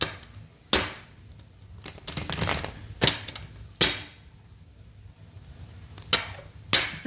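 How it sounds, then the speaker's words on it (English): Tarot cards being shuffled by hand in a series of sharp riffles and slaps with soft rustling between, close and fairly quiet. "we're going to shuffle these cards 5 times."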